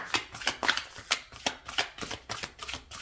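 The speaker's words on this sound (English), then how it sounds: "I know these cards sometimes can be hard to shuffle" Oracle cards being shuffled by hand, a run of quick crisp riffling bursts repeating at a steady rhythm, close and fairly quiet with no talking.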